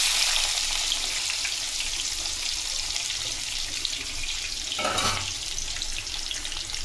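Garlic, onion and green and dried chillies hit hot oil in a pan, giving a loud, steady hiss and crackle close by that runs the whole time, with a brief stir midway.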